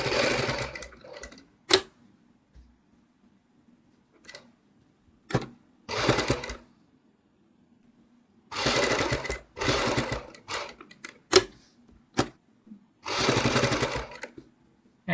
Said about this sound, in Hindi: ऐसे ही सिलाई लगाते हुए हमने लास्ट तक ये सिलाई कंप्लीट करनी है।